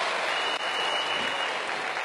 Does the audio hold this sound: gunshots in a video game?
no